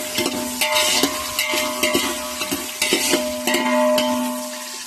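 Onions and green chillies sauté in a pan for mutton biryani, giving a loud, close sizzle. Repeated rhythmic scraping and clacking from stirring runs throughout, and no one talks.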